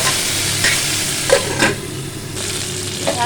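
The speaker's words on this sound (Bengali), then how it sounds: "ঢাকনা খুলে একটু নাড়াচাড়া করে দেবো জাস্ট একটু নাড়াচাড়া করে ভেজে নেব" Chutney frying in a pan after the lid comes off, with panch phoron and dried red chillies in the oil, giving a steady loud sizzle and occasional stirring scrapes throughout, and no voices.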